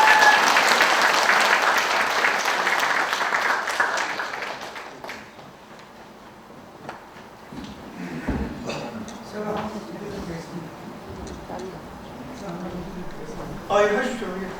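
Audience applause at the founding anniversary ceremony of a history and culture promotion institute: loud, dense clapping from a crowd that tapers off after about five seconds, followed by a room murmur and talk.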